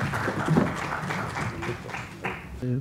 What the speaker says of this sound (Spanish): despedimos con un fuerte voto de aplauso